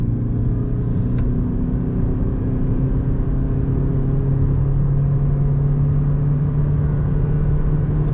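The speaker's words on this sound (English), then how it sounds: "I'm gonna put it back in power mode. Let's go on throttle." A 2021 Toyota Prius hybrid accelerates in power mode, heard from inside as a loud steady engine rumble and whir that climbs gently in pitch over several seconds, with no talking.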